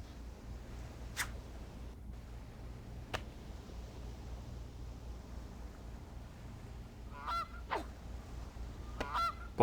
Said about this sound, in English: Is that a goose?